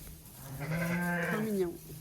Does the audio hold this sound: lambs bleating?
yes